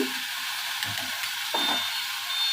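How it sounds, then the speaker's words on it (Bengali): Bhagna fish frying in a pan of oil, a steady soft sizzle with a few brief bubbling bursts as the pieces shift, close but fairly quiet, no voices. "এখন আমি ভেজে নিব ভাগনা মাছ"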